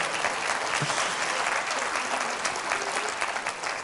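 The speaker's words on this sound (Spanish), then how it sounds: "Con razón, Sena, un aplauso a la canción del pastor." Sustained applause from a church congregation fills the space, steady and even for several seconds with no talking.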